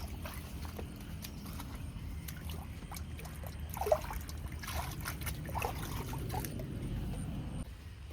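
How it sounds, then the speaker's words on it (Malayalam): Small, brimming stream after rain trickling and flowing steadily, a continuous gentle gurgle with no voices. "ഇതാണ് നമ്മുടെ ചെറിയ തോടാണ്"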